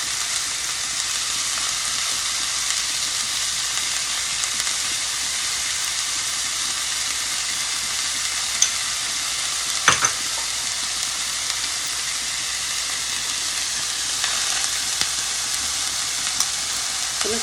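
Ribeye steak pan-searing in garlic butter, a steady broadband sizzle and fry that runs unbroken throughout with a few small pops and spatters, close and moderately loud, with no talking.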